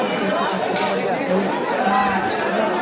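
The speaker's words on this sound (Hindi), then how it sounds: "इतनी सारी भीड़ है" A dense crowd of pilgrims chatters at Shyam Kund, many voices blending into a loud, steady murmur close around the listener.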